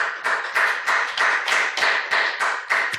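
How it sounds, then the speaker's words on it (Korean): A church congregation claps together in unison, a dense, steady run of roughly a dozen rhythmic beats filling the hall for about three seconds with no talk over it. "우리 박수 한번 합시다."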